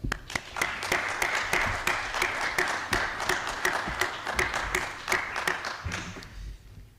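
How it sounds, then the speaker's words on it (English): Candidates at a 2024 meet-the-candidates evening receive a round of applause from the audience, dense steady clapping sustained for several seconds before tapering off at the end. "Can we give them a round of applause?"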